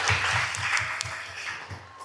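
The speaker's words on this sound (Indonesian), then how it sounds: "Saya kasih tepuk tangan sekali." Audience applause at a school talk show, a modest spread of clapping hands held at a steady level for a couple of seconds, with low hum underneath.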